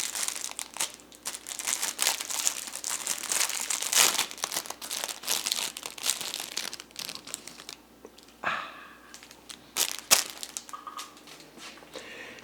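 Crinkling and crumpling as gloves are pulled off during an F-350 oil and filter change, a close, fairly quiet run of crackles and rustles with a few sharper snaps.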